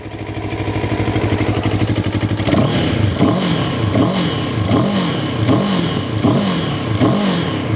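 In sport mode, a CFMoto 700CLX motorcycle engine idles close and loud, then revs in a string of sharp repeated blips that rise and fall, with no talk.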